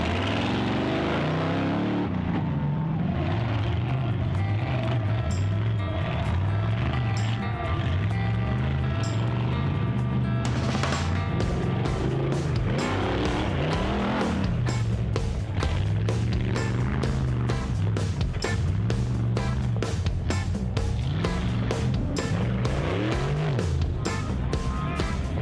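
Engine of a 4x4 off-road vehicle racing at an extreme 4x4 jamboree, a loud continuous roar with rising and falling revs and a rapid rattling beat, close and steady throughout.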